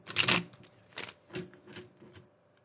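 A deck of tarot cards is shuffled by hand in a few quick bursts of riffling and flicking, close and fairly crisp, the first burst loudest and the later ones softer, with no speech.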